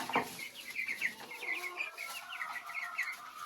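Broiler chickens kept in a small pen give soft, repeated clucks and short chirping calls, a steady murmur of birds heard fairly close but at low volume.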